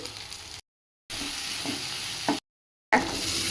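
Mustard seeds, urad dal, onion and crushed garlic frying in a pan, a steady close sizzle broken by two abrupt silent gaps, with a sharp crackle or stir just before the second gap.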